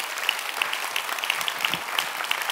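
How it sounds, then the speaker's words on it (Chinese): Audience at an Atomy Malaysia company event claps in a soft, fairly distant round of applause, with a few louder individual claps standing out from the steady patter. "掌声鼓励自己，掌声鼓励爱多美马来西亚"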